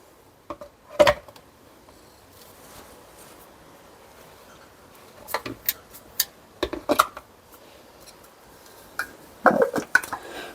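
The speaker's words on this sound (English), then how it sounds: "Putting the lids on." Lids are put on milk frothers in a kitchen, giving a few sharp plastic clicks and clatters in scattered bursts over near silence.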